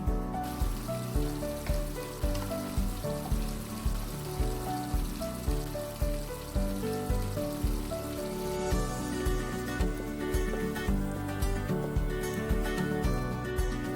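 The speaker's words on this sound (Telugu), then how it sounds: "ఈ మసాలా దినుసులు వేగిన తర్వాత క్యాష్యూ నట్స్ ని కూడా వేయించుకోవాలి." Cashew nuts frying with whole spices in a pan for mint pulao, a steady close sizzle and crackle that runs the whole time beneath a bed of music.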